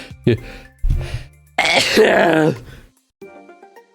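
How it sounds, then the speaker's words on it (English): A person lets out a forceful, aggressive sneeze, preceded by short throaty catches and sharp breaths, then a brief spoken word follows. "I swear my sneezes used to be a lot less aggressive."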